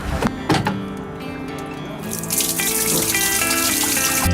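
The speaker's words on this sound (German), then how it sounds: "Lassen wir noch schnell nochmals das Wasser ab" Water draining from a tap, a steady rushing flow that starts after a few knocks and thumps and grows louder and fuller as it continues.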